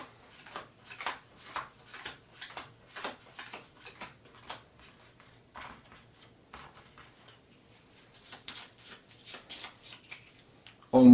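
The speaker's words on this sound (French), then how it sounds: "il faut bien le mélanger également" A deck of board-game cards is riffled and shuffled by hand, a quick run of crisp, close flicking bursts in an uneven rhythm over about ten seconds.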